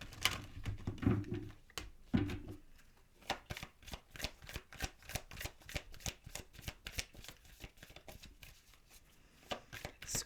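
A deck of oracle cards is shuffled close up in a tarot-style reading, giving a long run of rapid, crisp riffling flutters and soft slaps with no voice over it.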